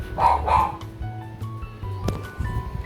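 Two quick, loud dog barks open the moment, followed by quieter household noises and a faint yip or whimper.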